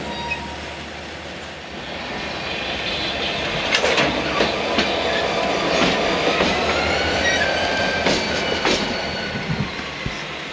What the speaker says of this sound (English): Once he pulled out, he stopped, lined the switch for the main, pushes consist back on the main.